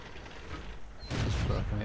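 A tank cannon fires in World of Tanks, a single sharp, loud boom that lands abruptly after a quiet stretch and rings on briefly with a rumbling decay.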